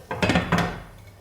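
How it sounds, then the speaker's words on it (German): A metal lid set back onto a frying pan used to fry bread, giving a couple of close clattering knocks in quick succession that fade into a quiet kitchen. "Ich mache den Deckel wieder drauf"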